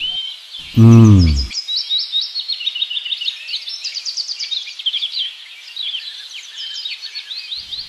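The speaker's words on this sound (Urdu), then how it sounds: "وہ درخت سے چڑیاں آواز کرتے ہیں، دیکھیے بہت چڑیاں ہیں" Many sparrows chirp in a tree in an Islamic cartoon, a dense stream of bright, rapid tweets that runs throughout, with a brief voiced sound near the start.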